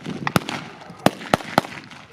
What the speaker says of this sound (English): You can see these bolt-action rifles when they fire.